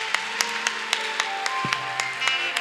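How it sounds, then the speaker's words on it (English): Church congregation at a Thanksgiving service clapping together in a steady, rhythmic beat, evenly spaced claps ringing over a sustained musical or vocal background. "Give the Lord a big clap."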